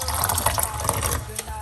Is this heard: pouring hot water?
yes